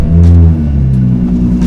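A car engine starting up and rumbling loudly at close range, with a deep idle and a slight rev settling into a steady run, no voices.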